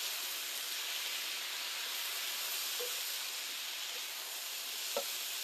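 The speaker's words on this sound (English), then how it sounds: "Stir-fried beans, carrots, peanuts, ginger and garlic for 2 minutes." Beans, carrots, peanuts, ginger and garlic stir-frying in a hot pan, a soft steady hiss of sizzling with a couple of faint clinks and a small knock near the end, no talking.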